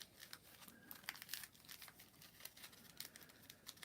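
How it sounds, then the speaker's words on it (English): Aluminium foil crumpled and scrunched by hand to build up a sculpture base for a seal or walrus shape, with a steady run of close crinkling and crackling bursts and no talking. "So I'm going to start off with some foil"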